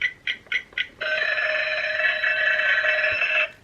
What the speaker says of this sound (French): Par exemple là vous allez avoir le réveil.